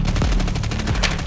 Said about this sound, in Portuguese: O pipoco do tiro.